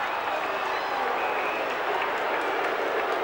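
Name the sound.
stadium crowd yelling at a 1987 Australian football match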